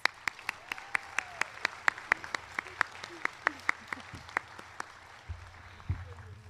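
Graduation audience applause at a vocational nursing ceremony, a sparse run of distinct, evenly spaced hand claps heard faintly in a large room, with murmuring voices in the background.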